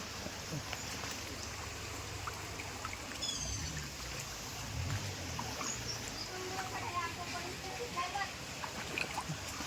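Steady trickling and gurgling of a small natural spring flowing after heavy rain in a village, with faint chirps now and then and no talking.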